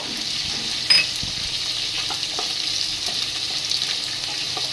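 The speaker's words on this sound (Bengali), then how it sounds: "শুকনো লঙ্কা ভেজে নেব" Dried red chillies frying in oil for a tamarind fish curry, a steady close sizzle with a bright hiss and occasional small pops and stirring clinks.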